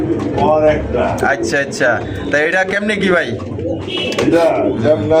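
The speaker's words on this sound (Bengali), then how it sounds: "দেখেন মাশাআল্লাহ কত সুন্দর একজন কবুতর আপনারা নিতে পারবেন" Fancy racer pigeons coo at a busy pigeon market, soft calls mixed in beneath close, steady conversation between men.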